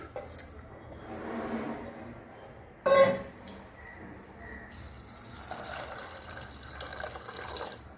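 Water runs into a pressure cooker over soaked rajma kidney beans, a soft, quiet splashing fill with a brief metallic clink partway through.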